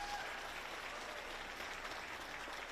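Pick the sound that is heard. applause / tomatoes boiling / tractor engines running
applause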